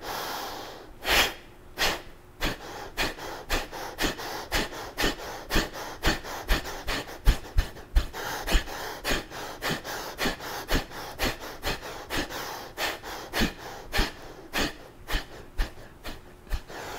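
Rapid, rhythmic breath-of-fire exhalations during a yoga session, forceful nasal puffs repeating about twice a second, close and steady, with no talking.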